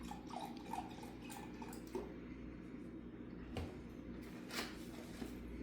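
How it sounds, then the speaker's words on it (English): Broth is poured into a pot for broccoli cheddar soup, giving soft, faint liquid splashes and drips with a few light clinks of cookware over a low background hum. "I'm just going to dump a little bit of broth here."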